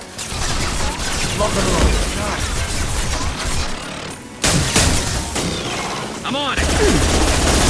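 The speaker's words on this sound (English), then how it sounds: "Firing an impact shot." Impact-shot gunfire in Mass Effect Legendary Edition, loud dense bursts of weapon fire and clattering combat noise almost continuously, with a brief lull midway, while a voice speaks briefly over it.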